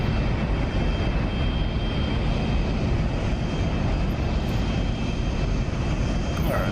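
An SR-71's jet engines in DCS, flying high over Germany, give a loud, constant broadband roar with no letup, alone without voices.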